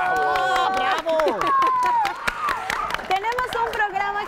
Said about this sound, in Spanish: vamos a darle un fuerte aplauso a Leticia Álvarez